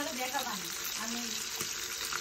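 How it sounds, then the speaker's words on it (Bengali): Fish frying in a pan for a village-style chicken thali, a continuous bubbling sizzle with faint scraping and clinks, heard up close with no clear talk. "মাছ ভাজতেছি গাইস, মাছটা ভাজা হোক"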